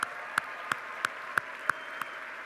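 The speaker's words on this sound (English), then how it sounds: "Judges, stand up and let's all clap for you." Sharp, evenly spaced single claps ring out about three times a second for the judges at an FTC robotics competition closing ceremony, each crisp and isolated over a low background hum.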